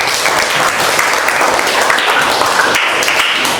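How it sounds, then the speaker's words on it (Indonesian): A classroom group claps loudly and continuously for Raina during an open class session, a dense, close burst of applause with a faint voice mixed underneath. "tepuk tangan buat Raina"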